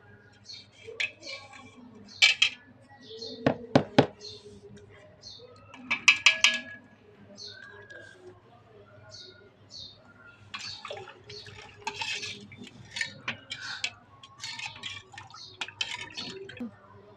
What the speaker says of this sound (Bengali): এখন চিনি দিবে দুই চামিচ দিয়ে দিল চিনি